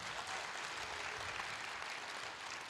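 Audience applause at a school's tenth-anniversary festival fills the hall, an even, sustained wash of many hands clapping at moderate distance without any speech over it.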